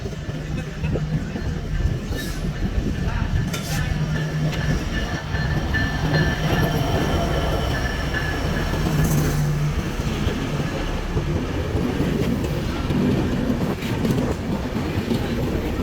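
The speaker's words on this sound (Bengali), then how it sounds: "দেখতে দেখতে আমাদের ট্রেন চলে আসলো।" The Madhumati Express intercity train pulls into Faridpur station with a continuous heavy rumble, rattling wheels and faint squeals. Bursts of crowd chatter from the platform run underneath the whole time.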